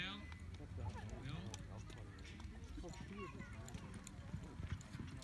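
Horse hooves pound the arena dirt in a barrel race run, a steady galloping clip-clop under loud shouting from a spectator urging the rider on, with crowd noise throughout.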